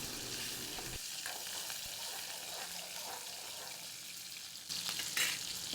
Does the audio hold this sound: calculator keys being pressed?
no